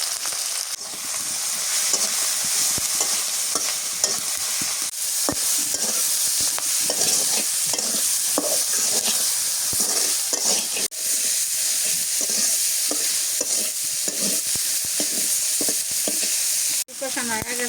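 Ground spices, turmeric among them, being stirred and sautéed in a pan, a loud continuous sizzle and hiss with frequent scraping strokes and a few sharp knocks throughout.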